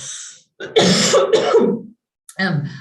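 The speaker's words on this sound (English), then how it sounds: "Sorry, cough again." A person coughs and clears their throat in a couple of harsh, fairly loud bursts, close to the listener, with short pauses between them.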